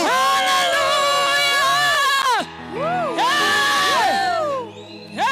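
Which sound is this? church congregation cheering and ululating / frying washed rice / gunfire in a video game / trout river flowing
church congregation cheering and ululating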